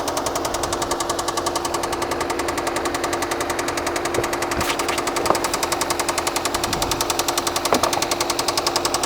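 An Audi engine idling with a knocking, top-end noise, a loud fast steady metallic ticking rhythm running throughout with a few sharper clacks, no voices.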